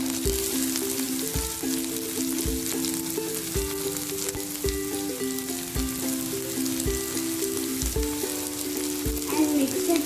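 Onions fry in oil with curry leaves, a continuous close sizzle and crackle with occasional scraping stirs running throughout, no voices.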